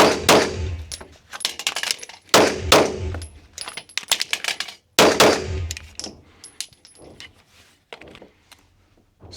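Glock pistol gunshots fired during a USPSA competition run, a string of sharp, loud cracks in quick rapid bursts with brief pauses, metallic clangs of steel targets and ringing tones, decaying into quieter shots near the end.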